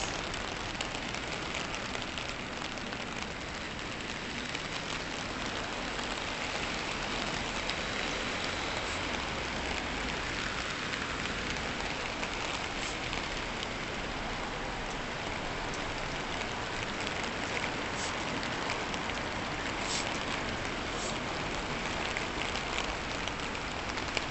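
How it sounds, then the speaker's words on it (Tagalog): Steady rain falls outdoors during a walk near a train station, a dense, even hiss of drops on surfaces that continues unbroken throughout without any talking. "rain."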